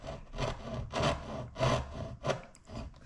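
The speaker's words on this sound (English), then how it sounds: "A coping saw with a very fine blade, about 20 teeth per inch" A fine-bladed coping saw, about 20 teeth per inch, cuts gently through a thick plastic mudguard for a Suzuki DR650SE, making about five rasping back-and-forth strokes, close and steady with no talk.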